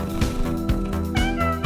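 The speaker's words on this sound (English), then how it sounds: "Mail Cat doesn't want to cooperate this week." A cat meows repeatedly up close, several short, loud, wavering cries in quick succession, with no talking over them.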